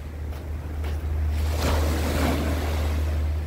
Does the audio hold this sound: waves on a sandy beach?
yes